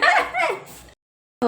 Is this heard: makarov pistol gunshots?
no